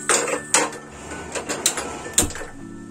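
A metal tadka pan for tempering mustard oil is set onto a kitchen stove, producing several sharp, loud metallic clanks and clatters in quick, irregular succession.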